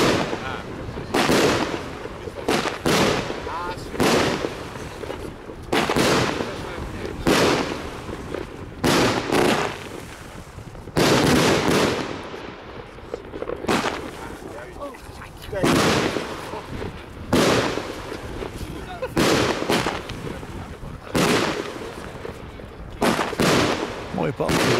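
A compact Golden Rain firework cake going off outdoors, with a steady run of loud, crackling bursts repeating roughly every second or two; faint voices talk between the shots.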